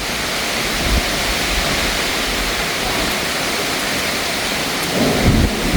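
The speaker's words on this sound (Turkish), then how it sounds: "Birden fırtına geldi arkadaşlar." A sudden windstorm with rain in Izmir roars as a steady, loud broadband rush, the wind and pouring rain continuous throughout, with a couple of heavier gusts and no speech.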